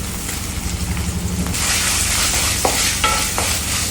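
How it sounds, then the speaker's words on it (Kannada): Crushed cinnamon and clove spices frying in a pan, a low bubbling sizzle that turns into a brighter, louder hiss midway, with a few clicking spoon scrapes near the end. "ಅಷ್ಟು ಚಂದ ಫ್ರೈ ಮಾಡಬೇಕು."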